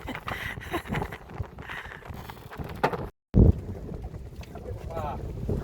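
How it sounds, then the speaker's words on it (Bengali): Steady wind rushes across an open microphone with gusty rumble, a brief dropout midway, and faint voices underneath, out fishing in the Sundarbans. "এই যে হাওয়া হচ্ছে"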